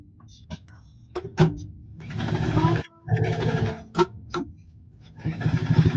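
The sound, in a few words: sewing machine understitching a pullover pocket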